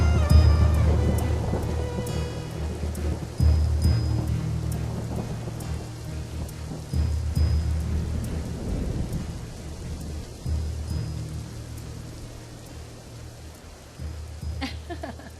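Steady rain falls in an Urdu audio drama adaptation of Mumtaz Mufti's story Aapa, with deep rolls of thunder swelling and fading every few seconds over the constant hiss of the downpour, and no voices.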